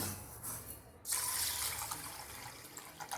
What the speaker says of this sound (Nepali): यसलाई हामीले राम्रोसँग सफा पानीले धुनुपर्छ।